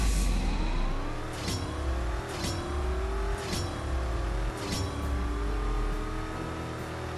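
Race cars in the CSR2 mobile game scream through rapid gear changes, the engine tone climbing and then dropping sharply at each shift in a repeating pattern, loud and alone with no talk.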